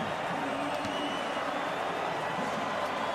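A record crowd of about 91,000 fills the stadium at State of Origin 2015 Game 2 rugby league, a dense, steady roar of distant cheering and clapping that holds evenly at a moderate level.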